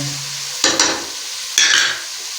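Carrots and peas frying in a pan for a vegetable Chinese rice, a steady sizzle with two sharp bursts of scraping as a spoon stirs, close and loud.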